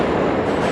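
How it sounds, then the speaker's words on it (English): A New York City subway train rumbles loudly and continuously through an underground station, a dense close roar with no distinct pauses. "One just took off."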